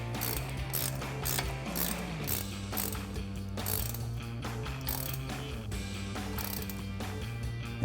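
Rapid ratchet clicking runs continuously as a 6mm Allen socket tightens a bolt on a Jeep Wrangler JL Teraflex suspension lift, loud and close, with steady repeated pawl ticks and no talking.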